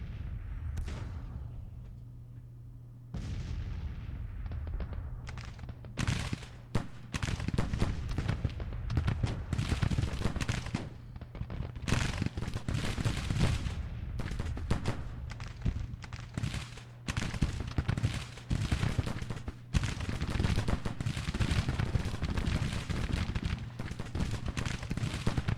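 Civil War cannon and musket fire in Grand Tactician, a dense barrage of sharp shots and heavy booms rolling almost continuously after a quieter opening, near and loud with overlapping volleys.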